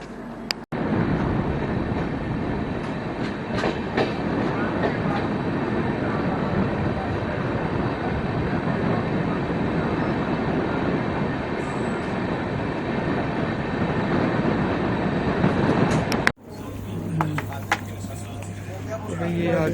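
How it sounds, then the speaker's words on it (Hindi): The 12042 Shatabdi Express pulls out on the Jalpaiguri to Howrah run, a loud continuous rumble and rattle of rail cars heard from on board that ends abruptly near the close, followed by quieter cabin sounds. "ट्रेन निकल चुकी है।"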